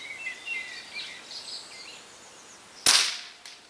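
A Weihrauch HW77 air rifle fired outdoors at a 100-metre target: one sharp, loud crack with a quick decay, preceded by birdsong chirping quietly in the background.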